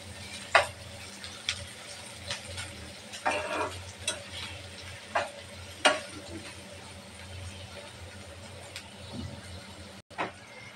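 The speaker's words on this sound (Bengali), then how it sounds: "পেঁয়াজটা ভালোভাবে ভেজে নেব" Chopped onions and sliced green chillies fry in hot oil as the base for a spicy koi fish curry, a faint, low sizzle broken by scattered sharp clicks and scrapes of stirring.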